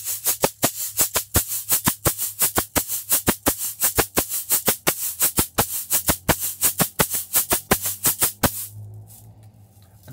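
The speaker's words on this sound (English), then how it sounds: "so we get those accented, those louder notes" A samba batucada drum pattern with accented louder strokes: rapid, even sharp hits over a low boomy ring, close and loud for about eight seconds before stopping and leaving quiet room noise.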